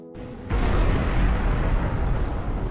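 Anime explosion as a giant Behemoth's brain blows up from an electric current. A sudden loud blast sets off a sustained rumbling roar.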